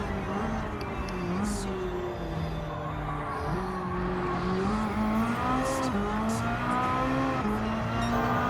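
A Ferrari F8 Tributo racing in Gran Turismo 7 drones with a steady engine note that climbs and drops through gear changes, constant and fairly loud, with faint talk beneath.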